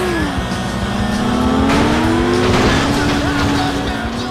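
Race cars in the driving game FlatOut roar and rev loudly, engine pitch sliding up and down with a brief tire squeal, under a voice.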